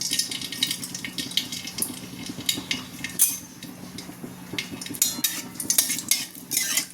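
Whole garam masala dropped into hot oil in a home kitchen pan, giving a steady close sizzle with scattered crackles and clinks of utensils against the pan, no talking.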